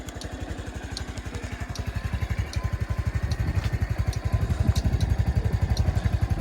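A 2016 Honda Cross Cub 110 fuel-injected motorcycle engine runs close by with a rapid, even putter that grows slightly louder, and no talking is heard.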